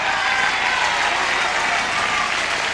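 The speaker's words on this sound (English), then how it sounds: "We should have applauded that loud before." A game show studio audience breaks into loud, steady applause that fills the whole stretch, a dense wash of clapping with a faint crowd murmur underneath.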